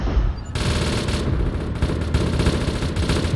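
Video game gunfire in a dense continuous fusillade, rapid loud shots layered over one another without pause for the whole few seconds.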